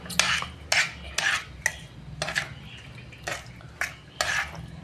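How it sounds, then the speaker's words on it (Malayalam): Spoon stirring sugar and a pinch of salt into banana payasam in a pot, giving a series of short, fairly close scraping clinks in irregular bursts with quiet gaps between them. "നല്ലപോലെ ഒന്ന് മിക്സ് ചെയ്ത് കൊടുക്കാം."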